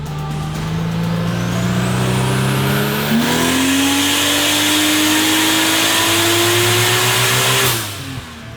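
A turbocharged engine fitted with a larger T4 1.06 exhaust housing makes a loud, sustained pull, its pitch climbing through a gear change before the throttle lifts and it drops off.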